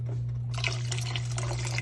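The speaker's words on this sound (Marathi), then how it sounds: "मग पाणी टाकतोय मी" Water is poured into a pot of urad dal cooking on the stove, a steady close splashing trickle that begins about a third of the way in over a constant low hum.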